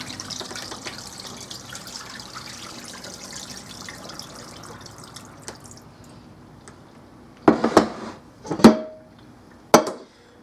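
Peeled turnips rinsed under a running kitchen tap, a steady wash of water splashing for most of the clip, then a few louder bursts of splashing and handling near the end, with no talk.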